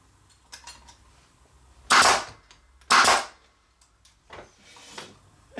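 A nail gun shoots into a wooden spacer on a floating shelf frame: two loud sharp bangs about a second apart, with quieter handling knocks before and after.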